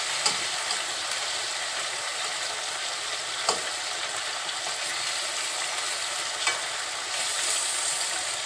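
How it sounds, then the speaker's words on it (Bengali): Garlic and ginger paste masala stir-fried in hot oil for a spicy chicken curry, giving a steady close sizzle with a few sharp spoon scrapes against the pan, no voices. "তেলের সাথে মশলাটা খুব সুন্দরভাবে কষিয়ে নিব"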